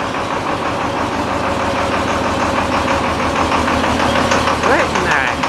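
John Deere 4020 tractor idling just after a cold start, a loud, close, steady diesel chug with rhythmic knocking, running alone without talk.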